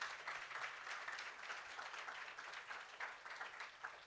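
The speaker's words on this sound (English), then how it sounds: "let's give Sanjay a round of applause" Continuous applause from a conference audience, a dense even patter of many hands clapping, fairly quiet and steady for the whole stretch.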